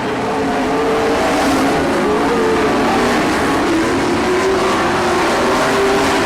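Race cars on a dirt track roar through turn 4 in a loud, continuous engine drone, with pitch rising and falling as they accelerate and slide through the corner, and no speech.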